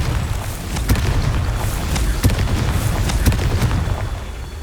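Confringo fire spells from Hogwarts Legacy burst as a run of deep booms over a continuous low rumble. Several blasts land at uneven intervals, loud and close.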